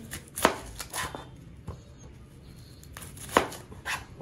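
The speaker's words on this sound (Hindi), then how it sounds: "सबसे पहले आलू छीलते हैं और बरीक काटेंगे इनको प्याज काटेंगे" A knife chops potatoes and onions finely on a board in a home kitchen, with a few distinct knocks and scrapes spaced irregularly, close by.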